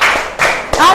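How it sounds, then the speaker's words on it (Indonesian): A classroom of students gives a quick round of clapping for a classmate, a few sharp claps in short bursts with some voices mixed in, close and brief. "Kasih tepuk tangan buat Fiona."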